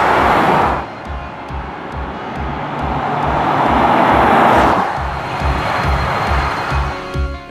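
Porsche Macan diesel SUV engine pulling hard toward redline near 5000 rpm while driving, a steady rumbling drone with rising intensity and a brief dip near five seconds, road noise underneath, no talk.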